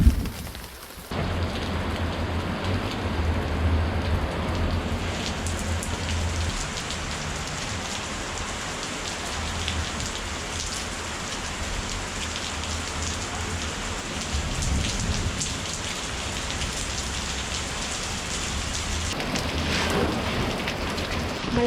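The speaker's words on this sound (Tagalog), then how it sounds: "Malakas ang ulan. Baha na sa amin." Heavy rain pours steadily onto surfaces during a flooding downpour, a dense continuous hiss with a low rumble underneath, loud and close for the whole stretch, with no voices.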